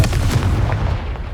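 A Confringo fire spell blast in Hogwarts Legacy, a loud, dense booming burst with rumbling low end that holds steady for over a second without any voices.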